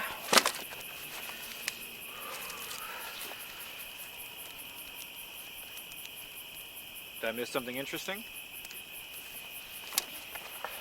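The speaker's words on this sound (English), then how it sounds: "The crickets just stopped. I think danger's approaching. Oh, and they're back." A film sound-effect loop of crickets chirping steadily at night in a medieval fan film, faint and continuous, with a voice speaking briefly partway through.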